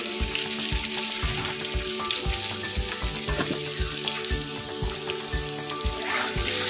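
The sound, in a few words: potatoes frying in pan with salt and turmeric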